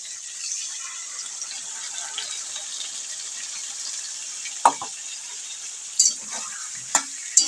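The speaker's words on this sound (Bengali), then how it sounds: "এবার এর মধ্যে মশলাটা কষার জন্য দিয়ে দেবো।" A paste of ground ginger, tomato and green chili fries with potatoes, giving a faint, steady sizzling hiss punctuated by a few sharp scrapes of a stirring spoon toward the end, with no voices.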